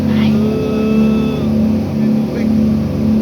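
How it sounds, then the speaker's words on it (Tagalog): A steady boat motor drones loudly throughout, a constant low hum with harmonic whine, while voices talk faintly over it. "Ang ingay ng motor."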